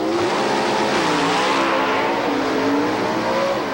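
Drag racing cars at a 1987 NHRA event roar loudly off the starting line, with a dense, sustained engine blare and a rising, wavering pitch that continues for several seconds.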